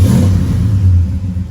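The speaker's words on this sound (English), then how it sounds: "I almost forgot to fire this thing up for you guys" A 1987 Oldsmobile Cutlass 442 with a replaced carburetor and the service engine light on runs with a loud, close, deep engine rumble that swells briefly as it revs, with no talking.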